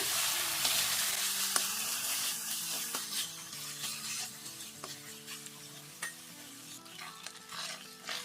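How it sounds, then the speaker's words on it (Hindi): Half a kilo of small boneless chicken cubes frying in a pan for white sauce pasta, a continuous sizzle with regular stirring scrapes and clicks of a spoon, moderately close, no talking. "अब चिकन डाल के फ्राई करेंगे"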